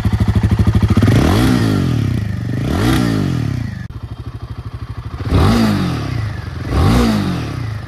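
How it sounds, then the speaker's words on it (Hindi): A Royal Enfield Himalayan 450 motorcycle engine idles with a rapid, throbbing exhaust beat, revved up and dropping back several times, loud and close. "कुछ ऐसा है इसका एग्जॉस्ट नोट।"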